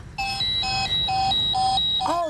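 A door alarm beeps loudly in a steady repeating pattern of short high tones, close by, with a chirp at the end.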